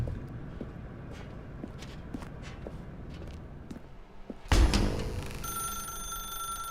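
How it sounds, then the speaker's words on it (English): A telephone rings in The Stanley Parable video game, a bright electronic ring that starts suddenly partway through after a stretch of soft footsteps and room noise, then carries on steadily. "Now pick up the phone"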